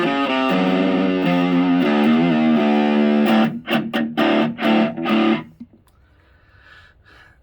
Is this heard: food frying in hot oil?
no